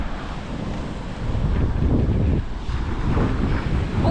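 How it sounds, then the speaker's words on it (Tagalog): Sea waves at Bucana wash and rumble under heavy wind buffeting on the microphone, a loud, continuous roar with surging swells and no talking. "Liit-liit na ang alon."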